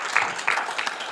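A crowd at a Relay for Life kickoff event claps in a brief, dense burst of applause that fills the short moment at steady loudness.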